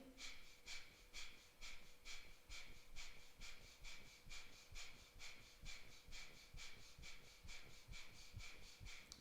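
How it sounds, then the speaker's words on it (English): Kapalabhati yoga breathing, forceful rhythmic exhalations pumped through the nostrils from the belly, a fast even series of close, sharp breath bursts repeating steadily with no talk. "Kapalabhati, the forceful breath in and out through the nostrils when you pump the breath from the belly"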